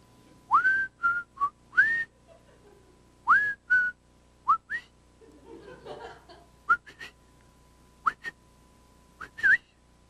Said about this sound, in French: j'aimerais ce soir siffler un air que tu aimais tant